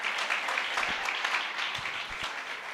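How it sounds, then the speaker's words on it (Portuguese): Steady applause from an audience cheering a group of children at a church children's ministry workshop, a dense wash of clapping holding evenly for the whole stretch. "Vamos aplaudir essa turminha"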